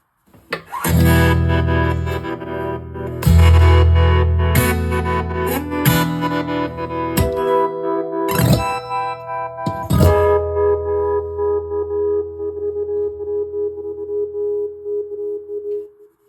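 Wild, shifting electronic tones from an effects pedal in random mode with a square sine wave, with sudden pitch jumps and distorted, warbling bursts that ring out and sustain near the end, no talking.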